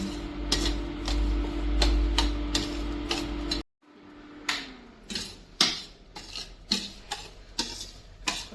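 Finger millet grains dry-roasting in a pan over a low flame, with a steady run of sharp spoon scrapes and stirring ticks. A short pause breaks the sound midway, then the stirring clicks return, more spaced out, with no talking.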